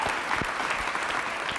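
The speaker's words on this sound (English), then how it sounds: "So give yourselves another round of applause." An audience at a public hearing on reparations claps in a brief, steady round of applause, close and fairly loud, with no clear talking over it.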